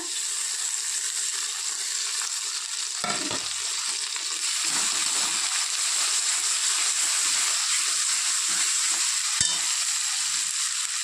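Chicken frying in a pan with garlic, chili paste and ginger paste gives a continuous close sizzling hiss, punctuated by a couple of brief clatters of stirring.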